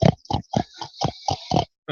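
A voice imitates snoring like a pig rooting, a rapid series of about eight close, loud, grunting oink-like snorts in an uneven rhythm.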